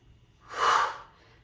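During a one-dumbbell HIIT workout, a single forceful breath is pushed out through the mouth, a short breathy whoosh rising and falling within about a second.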